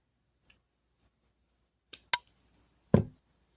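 Scissors cut a strip of synthetic braiding hair in half, giving a few faint, sparse clicks and then a crisp snip and a louder final cut. The sound is close and quiet, with silence between the cuts.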